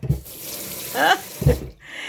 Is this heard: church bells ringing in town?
no